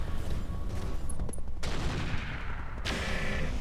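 Rapid bursts of mech autocannon fire in the Roguetech battle game, a loud dense volley of booming shots with sharp cutoffs and a fresh burst near the end, no talking.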